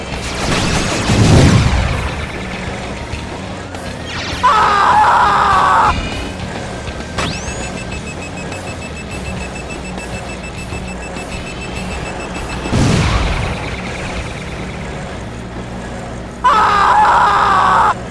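Boss fight combat in the Twisted Metal vehicular combat video game: loud bursts of crashes and impacts, alarm-like electronic beeps and sustained tones recurring in waves, with a steady game soundtrack underneath.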